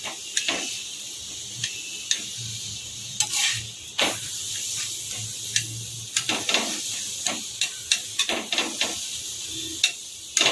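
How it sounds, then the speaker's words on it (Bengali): Dal parathas fry in refined oil with a steady, close sizzle, broken by frequent sharp clicks and scrapes from the pan and utensil. "লাল লাল করে ভেজে নেব"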